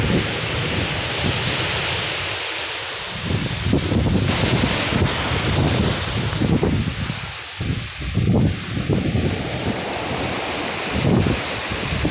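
Strong monsoon wind and sea waves during a typhoon storm on a Quezon province coast, with loud continuous roaring gusts buffeting the microphone over surging surf, no voices.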